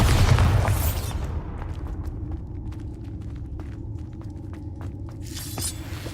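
A Bombarda explosion spell in Hogwarts Legacy erupts in one loud, deep boom with crackling debris, then settles into a low rumble scattered with small clicks and tinkles before a swelling magical shimmer near the end.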